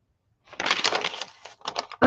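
Crunchy dyed vellum paper being handled while working on a shabby journal cover, giving a close run of crisp crackles and crinkles with short pauses and a sharper crunch at the end.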